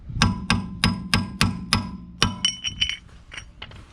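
Chisel tapping off the wheel hub cap of a 2007 VW Beetle: about six sharp metallic taps at a steady beat, then a quicker scatter of lighter clinks, close and clear with no talk.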